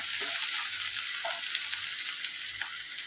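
Potato pieces frying in oil in a pan while cooking a Shimla mirch masala, a steady hissing sizzle filling the whole clip with faint clinks and stirring touches underneath.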